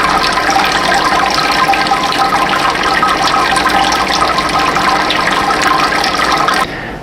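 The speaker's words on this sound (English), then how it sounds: "We're going to give them a quick wash with our sparge water" Sparge water rinses malted grains while brewing a Scottish dry ale, a loud, close, steady gushing rush of pouring water that cuts off near the end, leaving a softer trickle.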